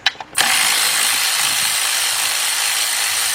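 A ratchet loosens a 10mm bolt on a bracket of a 2005 Cadillac CTS with the 3.6 engine. A couple of short clicks are followed by a loud, steady, close-up whirring grind that runs to the end.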